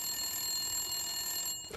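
Phone ringing in Resident Evil: Shadows of Rose, a continuous high electronic ring that cuts off near the end, followed by a brief soft noise.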